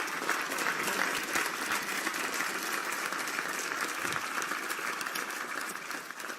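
An audience claps steadily in a continuous, fairly close burst of hand-clapping that fades a little near the end.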